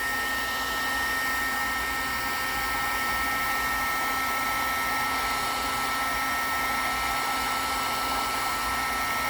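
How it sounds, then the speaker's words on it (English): A crafting heat tool blows hot air over embossing powder, a steady close whirring hiss with a faint electric whine that holds evenly throughout. "I have a heat tool. I'm going to turn it on first and then just heat this up."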